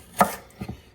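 A knife chops celery on a cutting board while eggplant dressing is being made: one firm thud, then two lighter quick chops, close and with no talk.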